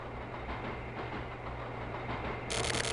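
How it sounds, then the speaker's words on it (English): A train approaches in the video game The Silver Case, a steady, fairly faint rumble that holds throughout before a bright, louder tone cuts in at the end. "Train is coming."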